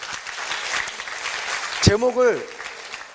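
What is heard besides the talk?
audience applause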